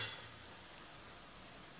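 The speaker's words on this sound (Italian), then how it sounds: "vi faccio vedere quante bollicine ci saranno adesso che l'olio è più caldo" Homemade cannoli shells fry in hot oil, giving a steady, faint sizzle and fine bubbling hiss with no voices over it.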